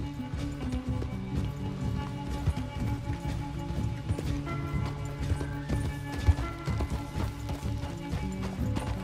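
A horse gallops in Red Dead Redemption 2, its hooves a fast, continuous clip-clop close up, with rattling gear and a brief whinny mixed into the steady in-game action noise.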